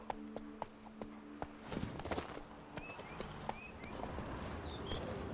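Horse hooves clip-clop steadily while riding in the video game The Witcher 3, with evenly spaced hoofbeats at first that blur into a busier, denser patter of movement under game ambience.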